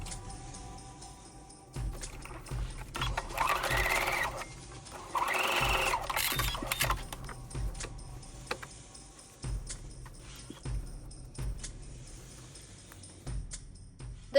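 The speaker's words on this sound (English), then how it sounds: "giving that a quick run on the sewing machine" A sewing machine runs in two short bursts of rapid stitching along a doll-sized coat seam, with quieter clicks and handling noises between and after.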